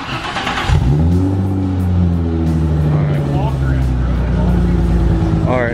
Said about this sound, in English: start it off. This is a cold start.